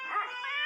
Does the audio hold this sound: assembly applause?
no